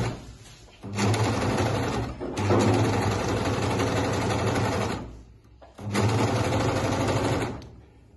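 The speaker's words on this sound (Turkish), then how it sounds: "Arka beden öne kapanacağı için ön omuzlara overlock çekilecek." Close, loud sewing machine overlocks front shoulder seams in three sustained runs of fast buzzing stitching, separated by brief pauses, with no talk.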